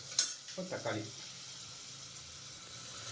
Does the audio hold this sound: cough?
no